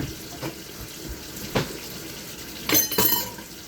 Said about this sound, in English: Followed by hand washing.